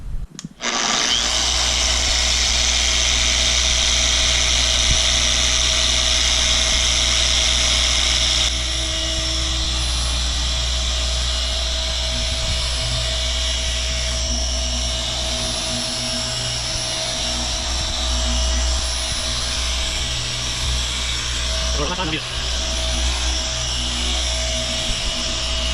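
A power polisher applies finishing polish to truck paint, giving a loud, steady high-pitched whine with a low motor hum that runs continuously close by for the whole stretch.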